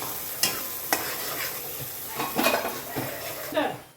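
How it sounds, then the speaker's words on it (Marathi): Paneer tikka masala gravy sizzling steadily in oil in a pan while a spoon stirs and scrapes through it, with occasional clinks of utensil against metal. "ती ग्रेव्ही पण इतकी छान शिजवून घ्यायची, मस्तपैकी परतून तेल सुटेपर्यंत शिजवायची"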